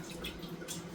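Water splashes and drips while mulberries are rinsed, a short run of soft, close wet patters and squishy drops at low volume.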